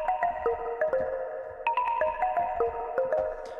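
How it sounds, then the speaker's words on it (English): Synthesized mallet tones made with Native Instruments Massive play a bright, bell-like pattern of short struck notes in steady rhythm, clear and upfront with no speech. "making mallet sounds with Massive"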